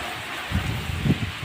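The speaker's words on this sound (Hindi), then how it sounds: "ये देखिए बारिश अभी भी हो रही है।" Steady rain hissing down, with soft patters and low thuds of drops hitting a surface nearby.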